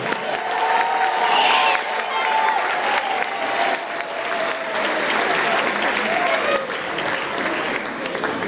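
A crowd at a 2022 semifinals high school pep rally applauds and cheers for the student section, a loud continuous roar of clapping with shouting and whistle-like cheers swelling and easing.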